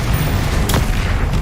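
A Confringo spell explodes in Hogwarts Legacy with a single brief burst inside dense, loud game combat noise, a short blast rising over a constant rumbling backdrop.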